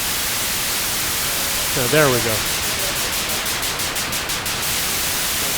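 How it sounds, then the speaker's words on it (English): Steady broadband white noise from a modular synthesizer hisses loudly throughout, with a brief spoken phrase over it near the middle and faint rhythmic pulsing toward the end. "let's just take a bunch of white noise"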